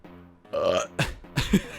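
A burp from the video game Untold Legends: Brotherhood of the Blade: one drawn-out belch, then two shorter, gruffer eructations in quick succession, close and fairly loud with no talking.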